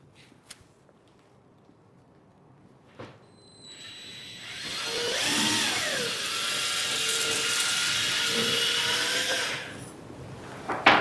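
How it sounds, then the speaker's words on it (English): A powered surgical drill bores through bone to prepare a locking screw hole for a multi-lock humeral intramedullary nail, a rising, steady high-pitched whine for several seconds, close and loud, after a few faint clicks. "And we finish drill the bone."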